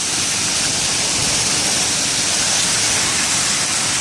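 Penny- to quarter-sized hail pours down in a storm, a loud, dense, continuous roar of pelting stones with no breaks and no voices.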